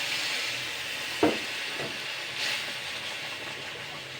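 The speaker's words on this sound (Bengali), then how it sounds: "মিশিয়ে দেওয়ার জলটা দিচ্ছি।" Water hits a pan of hot, fried-down spice masala for a green peas curry, giving a sudden sharp sizzle that settles into a steady, loud steamy hiss with no voices.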